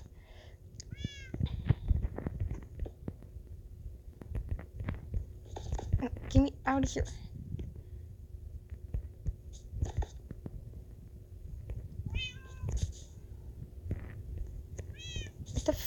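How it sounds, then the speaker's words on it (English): A cat meows repeatedly in scattered calls over several seconds, close by, while a person whispers and talks quietly in between. "Who's meowing?"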